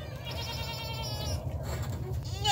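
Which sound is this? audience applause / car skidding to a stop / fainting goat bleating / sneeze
fainting goat bleating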